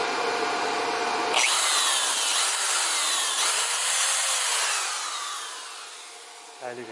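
A power drill whirs steadily at high pitch, its tone shifting slightly as it bites, then winds down near the end.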